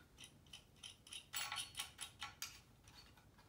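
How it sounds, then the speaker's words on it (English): A socket wrench ratchet tightens a nut and washer on a Simpson Strong-Tie post base fixed with a concrete anchor, giving a brief run of quick, crisp clicks that peak in the middle and then trail off. "then tighten it down with a socket wrench"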